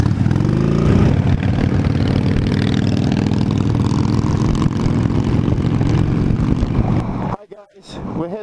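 A Harley-Davidson 883 Sportster V-twin engine revs hard at full throttle on twisty country roads, a loud, steady low rumble filling most of the clip before cutting away abruptly near the end.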